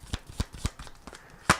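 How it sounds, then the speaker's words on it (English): Tarot cards are shuffled by hand at close range, giving a series of soft papery riffles and taps in an uneven rhythm, with one sharper slap near the end. "So as I shuffle shuffle the cards"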